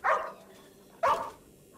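Two sharp dog barks about a second apart inside the zombie video game Arizona Sunshine 2, fairly close and clear, with no speech over them.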